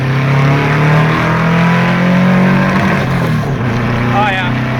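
A car engine fed by 44 IDF carburetors on 125 jets revs hard on the road, a loud, sustained droning tone that holds and then drops off as the throttle eases near the rev limiter.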